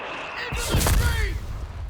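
A mortar round fires in the Company of Heroes 3 strategy game, a single heavy boom with a deep rumbling tail that slowly fades.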